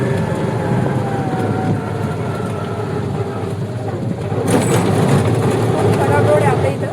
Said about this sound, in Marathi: रेल्वे कशी जवळून जाते आमच्या चिकलठाण्याच्या रेल्वे स्टेशन पाशी आहे